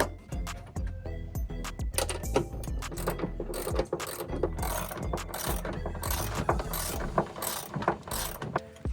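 A ratchet wrench drives in the rear leaf spring bolt on a van suspension, rapid pawl clicks rattling close and continuous, with bursts of metallic ratcheting and clanks throughout and no voices.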